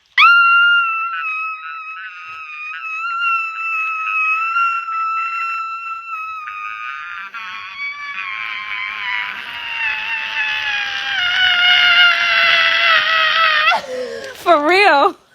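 A woman imitates her loud screaming during childbirth, with one long, piercing, wavering vocal scream held for many seconds before breaking into shorter cries at the end.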